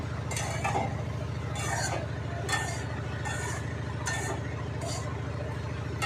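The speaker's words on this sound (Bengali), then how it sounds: "সিঙ্গারার জন্য আলু ভাজি করছি" Potatoes frying in a pan for samosa filling, stirred with a utensil: repeated scraping, clinking strokes come at a steady pace over a constant low hum and a soft sizzle.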